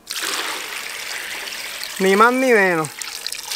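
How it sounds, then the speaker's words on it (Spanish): Water is poured into a pot over gooseberries for a traditional Puerto Rican gooseberry sweet, a steady close splashing pour that runs for a couple of seconds before a voice speaks over it. "Ahora vamos a estar echándole el agua hasta cubrirlas completa"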